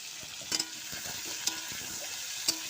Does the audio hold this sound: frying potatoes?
yes